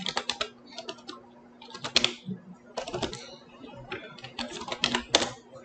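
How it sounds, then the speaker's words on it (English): Rapid clicking keystrokes on a computer keyboard as a pip install command for OpenCV Python is typed into a terminal, coming in quick bursts with short pauses between them, close and fairly clear against a faint steady hum. "So now I'm going to type pip install opencv python"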